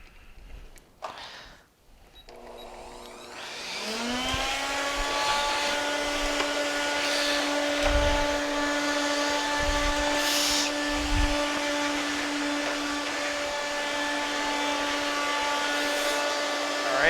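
A Roboclean vacuum shampooer with its bare floor tool attached starts after a couple of seconds of handling clicks, spinning up into a loud, steady motor whine with a sustained tonal hum and occasional low bumps as the tool moves across the floor.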